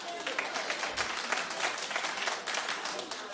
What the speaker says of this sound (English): Clap if you think she looks like her.